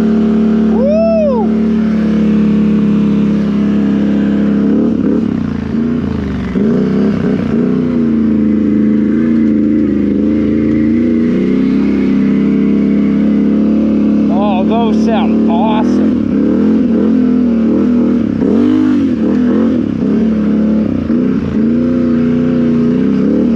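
Motorcycle fitted with RJWC dual exhausts and a fresh tune, revving and riding loud and close, its engine drone rising and falling with throttle, with wind rush and a voice talking at times.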